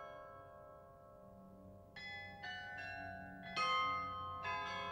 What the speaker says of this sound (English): The 27 bells ring on the hour.